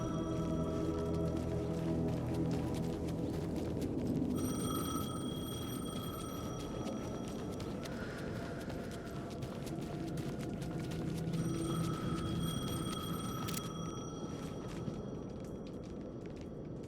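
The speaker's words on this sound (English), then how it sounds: "The payphone was ringing." A payphone in Alan Wake 2 rings in repeated electronic trills, two clear bursts over a low, murky ambient drone.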